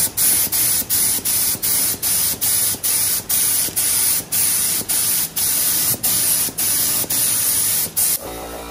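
A spray gun lays a light tack coat of paint on Porsche Boxster 986 wheels in about fifteen short, regular hissing bursts, each separated by a brief gap, close by and with no talking.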